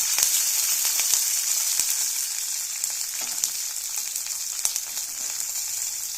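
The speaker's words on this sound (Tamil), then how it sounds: "ரெண்டு பச்சை மிளகா கறிவேப்பிலை போட்டுட்டேன்" Green chillies and curry leaves frying in hot oil in a pan for a sardine tamarind fish curry; bright close sizzle with sharp intermittent pops and crackles, no speech.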